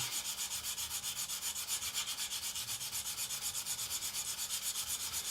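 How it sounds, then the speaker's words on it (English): Rapid, rhythmic scratchy rubbing of a coarse sanding stick worked back and forth on a 1/72 scale plastic B-24 model kit, steady and close, with no voices. "Same thing again, coarse sanding stick."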